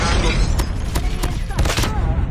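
MK2 rifle shots ring out in Call of Duty Mobile as four or five sharp, evenly spaced, loud reports over busy game noise and a talking voice.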